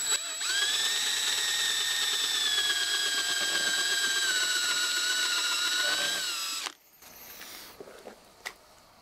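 Power drill boring a hole in raw wood to take a lag screw, a steady high whine for about six seconds that bogs slightly and then stops, followed by faint clicks and handling noise.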